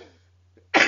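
A single short, sharp cough bursts out loud and close at the very end, after a brief quiet pause.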